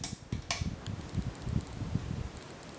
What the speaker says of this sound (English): for the low speed, which I'll show with the fan and light on, running simultaneously here